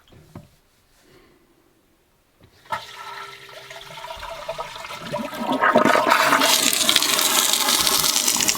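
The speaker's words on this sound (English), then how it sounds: "I think if you hit it again, now it will flush." A Horow T38 smart toilet starts with a few faint clicks and a short pause, then flushes loudly. Rushing water builds and grows stronger over several seconds, close and loud.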